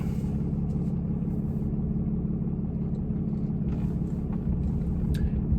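A car fitted with a new cold air intake and a turbo rumbles steadily at low revs as it is put in gear, a constant deep engine drone with little change in loudness.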